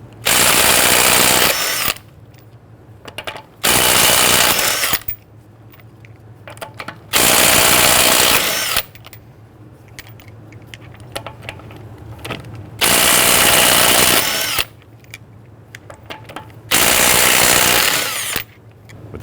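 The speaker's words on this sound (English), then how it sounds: "Using a 21mm socket, loosen and remove your lug nuts." A power tool with a 21mm socket spins off the rear wheel lug nuts on a 2011-2017 Nissan Quest, five loud whirring bursts of about two seconds each separated by quiet gaps.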